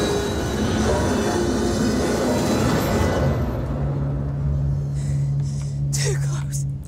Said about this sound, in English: I knew a train passed first